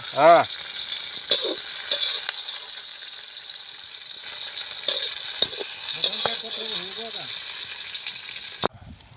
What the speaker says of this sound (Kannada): ನೋಡ ಮೆಣಸಿನ್ಕಾಯಿ ಮಸ್ತ್ ಹುರ್ದವ ಎಣ್ಣೆಗ